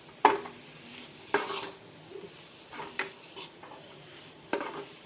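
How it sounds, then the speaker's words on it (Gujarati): Potatoes with tomatoes being mixed in a pan for sukhi bhaji, a spatula knocking against the metal in sharp, scattered strikes over a quiet sizzle, no speech. "હવે આપણે બટેટાને સારી રીતે મિક્સ કરી દેવાના છે"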